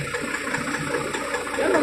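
A Volvo truck's hot engine idles after a long drive, a steady close rumble with a constant hum and no talking.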